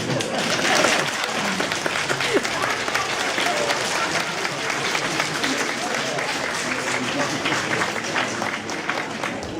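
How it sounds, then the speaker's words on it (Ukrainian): An indoor audience applauds steadily in a dense, sustained wash of clapping, with voices murmuring underneath. "Чому ми аплодуємо?"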